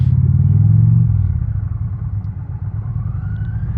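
A 2022 Indian Challenger Dark Horse motorcycle pulls away under hard throttle, a loud, close engine roar that surges at the start and then settles into a steady, rising drone as it speeds up.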